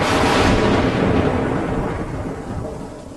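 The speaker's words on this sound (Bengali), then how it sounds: "কড় কড় শব্দে বাজ পড়তে পল্লবের হাত থেকে চায়ের ভাঁড়টা মাটিতে পড়ে একেবারে ভেঙে চৌচির হয়ে গেল।" Loud crack of thunder in a horror story narration, a broad roaring burst that rumbles on and slowly fades over a few seconds, with no voice over it.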